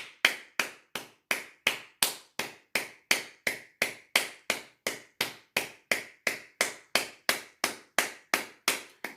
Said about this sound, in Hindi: बहुत ही ज़ोर-ज़ोर से इस तरह से अपने हाथों को खोलकर इस तरह से ताली बजाना है, ऐसे।